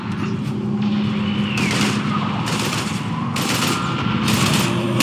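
Rapid bursts of automatic gunfire from the video game Mass Effect 3 rattle loud and continuous, layered with explosions and combat noise that never let up.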